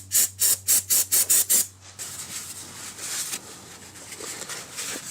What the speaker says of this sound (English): Let's get a little of this brake clean going.